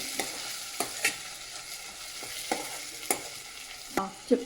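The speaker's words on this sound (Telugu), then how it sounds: "బిర్యానీ ఆకు లవంగాలు ఓకే మసాలా దినుసులు లైట్గా వేసి లైట్గా కలుపుకోవాలి" Bay leaf, cloves and whole spices stirred lightly in a hot pan: a soft continuous sizzle with sharp spoon scrapes at irregular intervals, close by, no talking.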